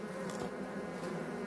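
Bees buzz in a steady, dense drone around a wild nest in a rock crevice in the woods, continuous and close with no voices.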